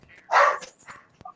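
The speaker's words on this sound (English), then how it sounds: "have a weird dog in the background" A dog gives a single short bark in the background, faint and slightly distant, followed by a small yip-like sound.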